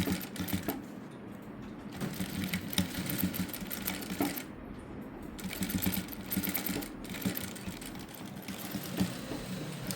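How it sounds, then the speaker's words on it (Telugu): A sewing machine stitches beaded blouse cloth in a cutwork pattern, humming and clattering nearly without pause at moderate level, close by with no voices. "పూసలు ఉన్నాయి కదా, కొంచెం జాగ్రత్తగా స్టిచ్ చేసుకోవాలి."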